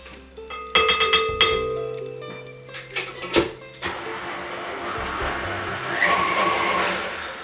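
An electric mixer whirs through icing sugar, its motor pitch shifting with clattering bursts against the bowl, steady and close throughout.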